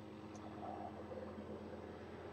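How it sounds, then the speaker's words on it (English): Distant airplane passing overhead, a faint low steady drone with a smooth rumble, heard from indoors with the door closed. "there's an airplane, you probably hear it"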